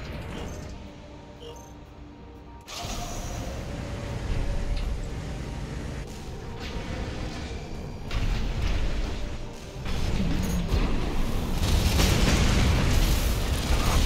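Grenades burst from a spinning torso maneuver in Armored Core 6, a series of muffled explosions and mechanical rumbles that swell louder toward the end.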